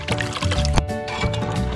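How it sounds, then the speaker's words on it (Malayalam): Coconut oil pours into a pot for homemade Kerala herbal hair oil, a short close liquid splash and gurgle over a low background hum. "ഇനി ഒരു 2 ലിറ്റർ വെളിച്ചെണ്ണ ഒഴിക്കുന്നത്."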